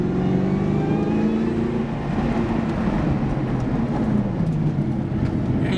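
A Ford Mustang fitted with a Wilwood 14-inch big brake kit on a threshold braking road test, engine and road rumble loud and steady, the engine tone sliding downward as the car slows.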